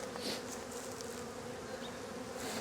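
Honey bees at a hive as a queen is released into it: a dense, steady, close buzzing drone that fills the whole stretch, with no voices.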